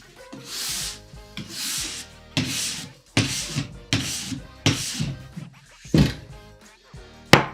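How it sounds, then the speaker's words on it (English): A bronze brush scrubs excess wax off a ski base, tip to tail, in about eight loud, close rhythmic strokes, each a broad rasping swish with a faint knock at its start. "brush off the excess wax with our bronze brush. So we'll go from tip to tail again"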